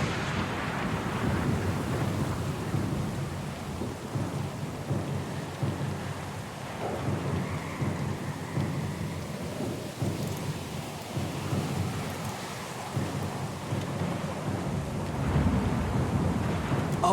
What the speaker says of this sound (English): We're a little sloop, lost and alone in the storm.